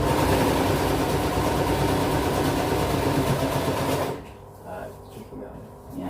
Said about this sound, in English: I have managed to sew Velcro on and put some tassels on.